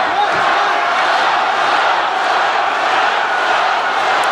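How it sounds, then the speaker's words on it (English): A large crowd at an MMA fight roars and chants a fighter's name loudly and continuously, a dense wash of voices with no pauses. "You hear the chants of the crowd yelling, Chuck, Chuck, Chuck."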